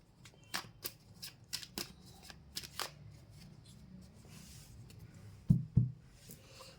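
Tarot cards shuffled by hand at a reading, a run of soft riffling slaps with two louder snaps near the end, close and alone over quiet room tone.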